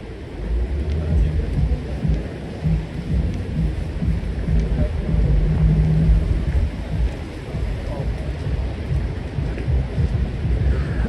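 Steady heavy rain with rumbling thunder on a Sunday night in Midtown Manhattan, a loud continuous wash of downpour with low rolls underneath and faint street traffic.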